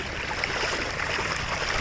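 A fast-flowing stream of rainwater rushes steadily with a dense, even broadband wash and faint bubbling, close and constant for the whole moment.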